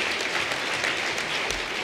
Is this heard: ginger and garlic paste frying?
no